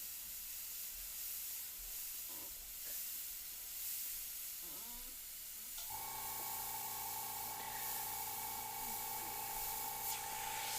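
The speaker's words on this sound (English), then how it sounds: "you'll have kind of a mix of nice soft airbrush shading" An airbrush sprays paint for soft shading, making a steady close hiss through the whole stretch, joined midway by a constant thin compressor-like tone.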